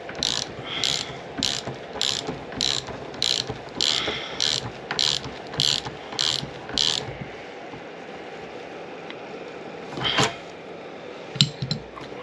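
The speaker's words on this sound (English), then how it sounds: "Now tighten it down with your 18mm socket." An 18mm socket ratchet tightens the high-pressure fuel pump bolt on an Audi TT. It gives a steady run of about ten rapid clicking bursts, then a pause with a few scattered clicks and knocks, close and alone.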